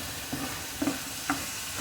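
Food sizzles loudly and steadily in small granite pans, a dense close-up frying hiss with a few faint clinks and stirring taps on top and no talking.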